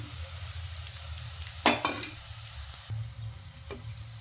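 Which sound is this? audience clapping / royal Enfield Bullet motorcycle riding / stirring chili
stirring chili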